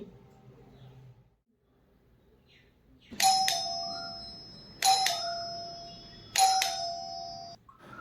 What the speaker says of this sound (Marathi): अगं ती बेल वाजते कोण आलंय